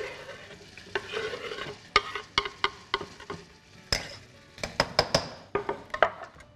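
Onions and garlic sizzle steadily in a pot while a spoon stirs and clinks against the metal in quick, irregular taps; no voices.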